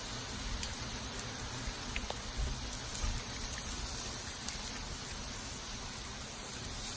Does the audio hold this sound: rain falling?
yes